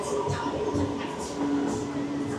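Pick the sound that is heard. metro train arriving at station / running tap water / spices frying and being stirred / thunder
metro train arriving at station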